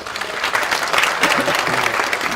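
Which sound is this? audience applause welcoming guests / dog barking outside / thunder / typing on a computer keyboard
audience applause welcoming guests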